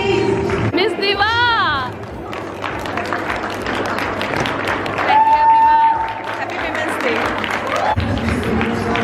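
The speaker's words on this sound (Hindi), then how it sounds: "तालियों की गड़गड़ाहट से भर दीजिए please" Audience clapping and cheering at a Women's Day celebration in Vivek Vihar, a loud crowd roar with whoops and chatter under an announcer's amplified voice.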